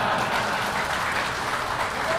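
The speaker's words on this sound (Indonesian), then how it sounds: "Jangan dulu tepuk tangan" Steady audience applause after a closing pantun recital, a continuous wash of many hands clapping throughout.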